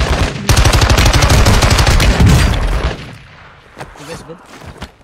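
Video game gunfire in a rooftop firefight: dense, rapid automatic bursts ring out loudly for a few seconds, then cut to scattered single shots and quieter clatter, with voices faintly underneath.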